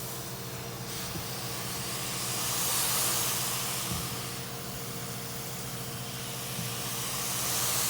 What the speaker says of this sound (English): Sorry about the background noise, that's the HVAC system going